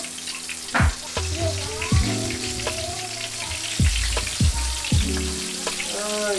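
Squid frying hard in hot oil, spitting and splattering with a loud, continuous sizzle and intermittent crackling pops, close by, while a person speaks and exclaims over it.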